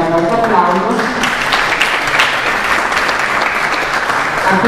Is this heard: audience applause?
yes